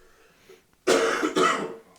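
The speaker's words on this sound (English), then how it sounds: "Let me cough." A single person coughs, close and loud, in two quick forceful bursts after a moment of near silence.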